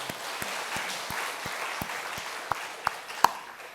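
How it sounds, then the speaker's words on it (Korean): Scattered applause from a church congregation during a Sunday worship service, sparse and uneven with a few sharper individual claps standing out, moderately loud in a reverberant room. "하나님 앞에 영광의 박수 올릴까요?"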